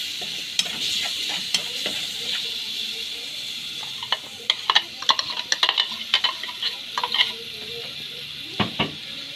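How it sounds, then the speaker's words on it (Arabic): Garlic cloves sautéing in a pan over browned onion give a bright, steady sizzle, broken by the scrape and clatter of stirring, which grows busier and more frequent in the second half. "عندي 4 فصوص ثوم كده هرسهم هدوم تشويحه ريحتهم هتطلع"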